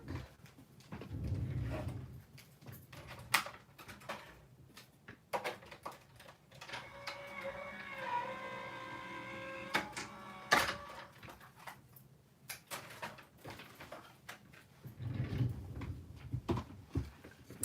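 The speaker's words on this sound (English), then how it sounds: "I'm going to run them through my machine" Card pieces for a fun fold card run through a card-making machine, giving a steady mechanical whir and rumble in the middle stretch, with scattered clicks and handling knocks before and after.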